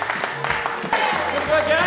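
An audience at a live gaming show applauds, a dense wash of clapping and crowd noise throughout the short stretch.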